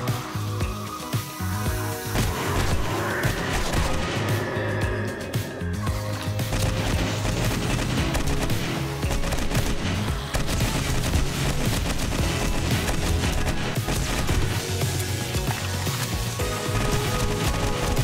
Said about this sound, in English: I think we'll use the gun with a lot of bullets in it